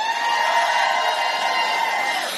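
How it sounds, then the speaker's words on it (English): A crowd at a Women's March rally near the White House cheers and applauds, a sustained, dense roar of voices and clapping that holds steady for a couple of seconds, heard from within the gathering. "Can I get some applause?"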